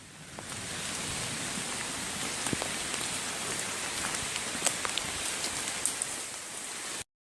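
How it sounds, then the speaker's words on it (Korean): Heavy rain falling steadily in a deep mountain forest, a dense close patter of drops on leaves and surfaces that holds constant for several seconds before cutting off abruptly. "아, 비가 와서 안 되겠어"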